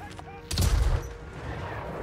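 Artillery fire in the video game Total War: Warhammer III, fired manually so the shot arcs high like a mortar: one loud, booming blast with a short crackling burst and rumble, then a steady battle din.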